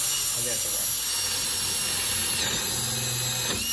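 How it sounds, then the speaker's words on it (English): A power tool whirs steadily at close range for the whole stretch, a continuous mechanical drone with a faint scraping texture underneath. "I would have used my more powerful drill for this."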